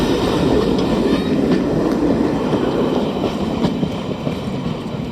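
A train on a short heritage railway, steam or 1960s diesel, rolls past at steady speed, wheels clattering rhythmically over rail joints with a continuous rumble underneath.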